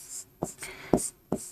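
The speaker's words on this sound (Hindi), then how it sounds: "नीचे लिख देती हूं" Pen strokes on paper scratch out short, quick bursts of handwriting, close and soft, with brief pauses between strokes and no talking.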